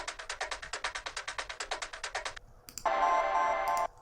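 A percussion loop panned slightly left in a techie groove plays fast, evenly spaced clicky hits for over two seconds, then a brief gap and a sustained bright, buzzy tone near the end, with no voices.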